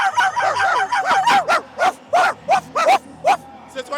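A dog barks in a quick run of sharp, repeated yaps amid the noisy bustle of the Bordeaux carnival, the barks loud and close with short gaps between them.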